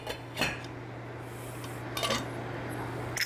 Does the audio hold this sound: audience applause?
no